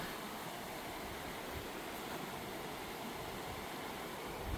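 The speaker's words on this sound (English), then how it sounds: "And there's Jake's Creek." Mountain creek in the Smokies near Elkmont, water flowing steadily over rocks as a continuous close broadband rush with no breaks, heard alone with no voices.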